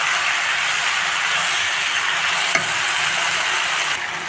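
Tempering spices sizzle and fry steadily in a pan for a gongura tomato curry, a continuous close hiss with a single brief clink of a utensil partway through.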